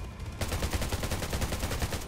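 Rapid gunfire rattles in the video game Undawn, a fast, even burst of repeated shots that runs continuously for about two seconds at moderate volume.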